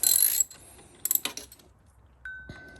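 A ratchet wrench turns a bolt on an Indian motorcycle. Close, brief bursts of ratcheting clicks come in short clusters, then a thin steady whine and a single soft knock, with no talking.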